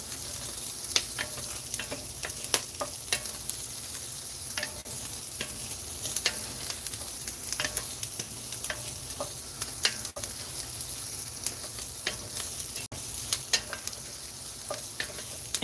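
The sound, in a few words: stirring rice cooking in a Dutch oven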